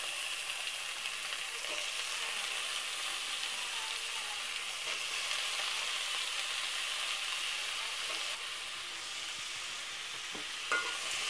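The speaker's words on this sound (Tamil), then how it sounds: "இந்த டைமில் நம்ம வாஷ் பண்ணி வச்சுருக்க கேரட் உருளைக்கிழங்கு இதில் சேர்த்துக்கிறேன்." Carrots and potatoes sautéing with onions in a pan give a steady, soft sizzle with occasional stirring scrapes, fairly quiet and continuous with no voices.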